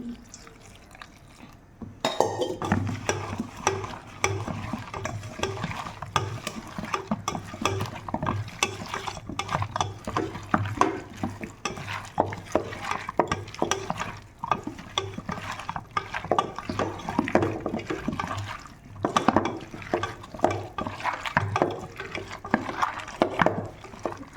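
Cauliflower pakoda batter being stirred and mixed by hand with splashes of water, giving steady wet squelching and sloshing close up, with small clinks against the bowl throughout.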